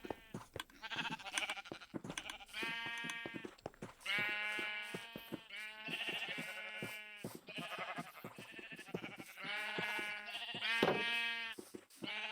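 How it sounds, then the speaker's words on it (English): Sheep in the video game Minecraft bleat almost nonstop, with several loud, close overlapping calls one after another and no speech. "Where do you want the sheep?"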